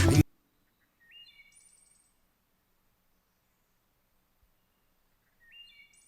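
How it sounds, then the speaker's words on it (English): Two short bursts of high, bright bird chirps, far off and faint, separated by several seconds of near silence after a brief opening thump. "Some birds."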